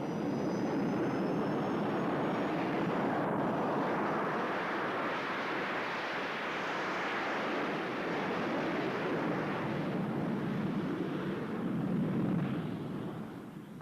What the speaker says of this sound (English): The jet engine moves the aeroplane forwards by pushing backwards a stream of hot gases